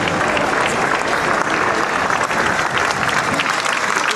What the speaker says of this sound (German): Immer einen besonderen Applaus für Ihre tolle Arbeit.